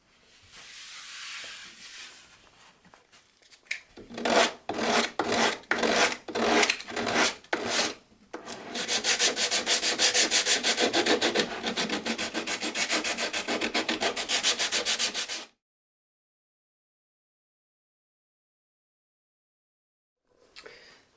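Sandpaper rasps against wood on a chessboard frame, first in a series of separate back-and-forth strokes, then in a fast continuous scrubbing burst before silence.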